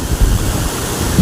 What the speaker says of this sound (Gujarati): અમારા પુલ ઉપર ડેમ છલકાઈ ગયો છે તો ચાલો જોવા જઈએ